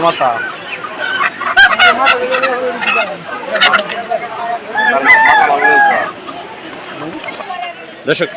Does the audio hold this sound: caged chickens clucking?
yes